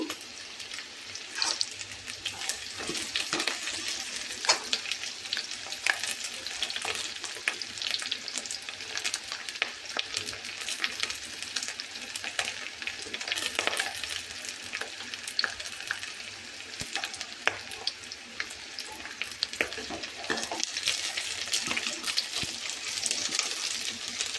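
Curry leaves fry in hot oil, a sustained bright sizzle with frequent crackles and stirring scrapes that stay busy and close throughout.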